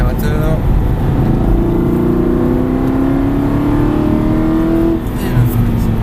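A car powers out of a corner on a race track, its engine loud and close, with a steady roar and a slowly rising pitch held for several seconds before a brief dip near the end.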